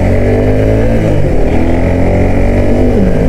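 A Suzuki Gixxer SF 250 motorcycle being ridden, its engine a loud, steady droning hum with harmonic bands that shift slightly as the revs change, continuous throughout with no speech.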